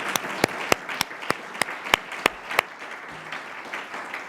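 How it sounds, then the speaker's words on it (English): Audience at a law institute conference applauds a panel, clapping in a dense wash with sharp, evenly spaced louder claps standing out through the first few seconds, then thinning toward the end. "so let's give them a lot of applause here"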